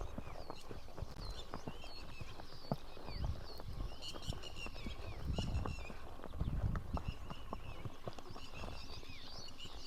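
Horse hooves clip-clop at a steady walking pace over continuous outdoor noise at a riding school, with birds chirping in the background and faint bumps of movement.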